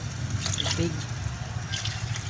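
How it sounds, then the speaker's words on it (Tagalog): Water trickles and drips into a pan of sautéed sardines with sotanghon noodles, a light liquid pouring sound over a steady low hum. "Lalagyan ng sabaw."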